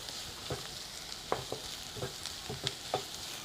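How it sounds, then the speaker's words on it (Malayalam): Onions and a couple of green chillies sauté in a pan, with scattered sharp clicks and scrapes of a spoon stirring through them over a steady soft sizzle, close by and fairly quiet, with no one speaking. "നന്നായിട്ടൊന്ന് വഴറ്റാം. അതിലേക്ക് പച്ചമുളക് 2."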